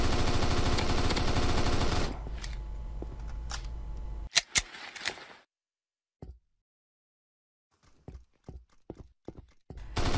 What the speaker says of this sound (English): It's also relatively easy to hit an enemy over distance, even with an assault rifle,